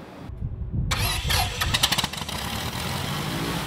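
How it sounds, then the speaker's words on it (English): A warm aircraft piston engine starts up: a brief cranking, then it catches with a few uneven pulses and settles into a steady, loud, close idle. "After the warm start, I'll use the ignition switch to turn it off, and that worked like a champ."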